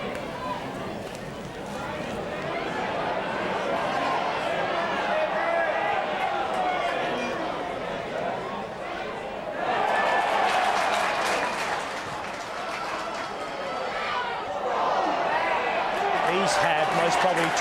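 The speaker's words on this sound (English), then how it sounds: "As you can hear in the background, the crowd's getting pretty excited out here" Excited crowd roaring and cheering at a 1996 Australian football match between West and North, a dense continuous wash of voices that swells louder around the midpoint and again near the end, with someone talking over it.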